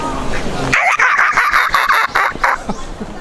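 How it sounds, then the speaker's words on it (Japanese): Several birds call noisily in a rapid, rhythmic burst of shrill cries outdoors at an autumn-foliage spot in Tokyo, fairly loud and close, with faint background ambience before and after. "このね、鳥がやんややんや鳴いてるので"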